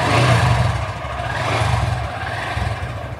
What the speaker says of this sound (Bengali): বাইক স্টার্ট দেই।